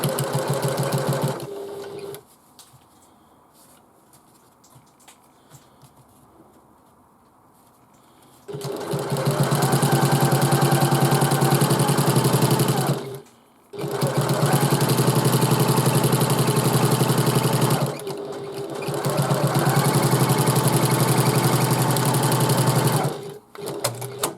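Sewing machine stitching a quarter-inch seam on a bag lining panel, running loud and steady in three long bursts with short pauses between, after a quieter stretch at the start.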